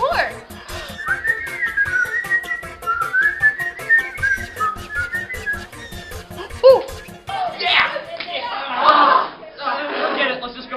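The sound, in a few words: person whistling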